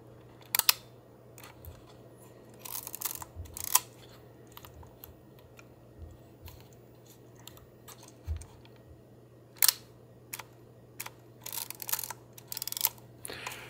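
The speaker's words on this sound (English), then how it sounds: "So let's see if I can show you what the shutter sounds like." Shutter of a Yashica Electro 35 rangefinder camera fires repeatedly, producing scattered crisp clicks and snaps of varying loudness, close to the microphone, over a steady low electrical hum, with no talking.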